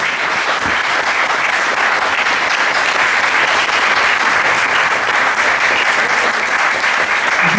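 An audience applauds after a talk on cycling and children's happiness in the Netherlands, a steady, dense, loud wash of clapping held throughout without pause.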